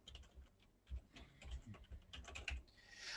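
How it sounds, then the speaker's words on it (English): Typing on a computer keyboard, quick irregular clicks and taps at close range, heard alone without talk. "You probably hear me typing away."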